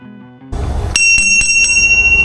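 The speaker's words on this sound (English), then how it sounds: "Nothing else to do but ring the bell and start turning the pedals." A bicycle bell rings at a trailhead at the start of a long Katy Trail ride, several bright, sharp dings in quick succession over a low rumble of outdoor background noise.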